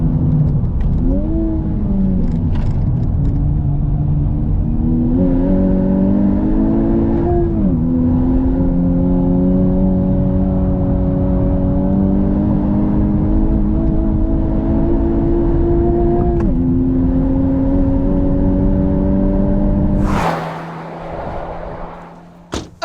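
A car laps a race track, either a 2021 Mustang Mach 1, BMW M2 CS or Honda Civic Type R LE, its engine loud and close, rising and dropping through gear changes for about twenty seconds before fading into wind noise, with no talking.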